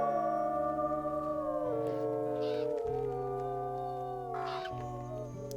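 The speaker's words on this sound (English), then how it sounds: "Definitely howl on this carcass too, and we can howl down this spot a little bit." Wolves in a wolf video game howling together over a carcass, several long, layered wavering howls rising and falling at once, sustained and fairly loud throughout with no talk.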